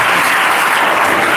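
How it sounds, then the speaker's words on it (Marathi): A crowd at a gathering in Ghansawangi bursts into loud, sustained clapping that fills the whole moment without a pause, dense and even from start to finish. "अक्षराच्या नावाने एकदा जोरदार टाळ्या"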